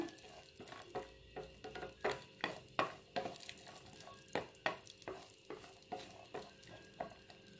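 Cashews frying in a pan on a low flame, heard as a quiet sizzle under a rapid series of regular scraping or tapping stir strokes, close and fairly soft, no speech.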